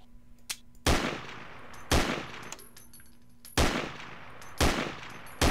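Machine gun fire from a shooter video game rings out in several loud, separate bursts spread across the clip, with quiet game ambience in between and no talking.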